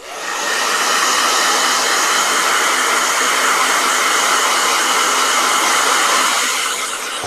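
A handheld hair dryer switches on and blows a loud, steady whoosh for several seconds close by, then cuts off at the end, with no talking.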